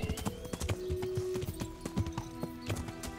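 Horse hooves clip-clop in a steady walking rhythm in the video game Kingdom Come: Deliverance, close and clear, with tonal background music layered behind the hoofbeats.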